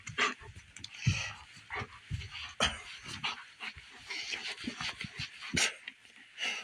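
A wet dog pants rapidly and whimpers close by, breathy bursts in an uneven rhythm with soft whines mixed in, no talk over it.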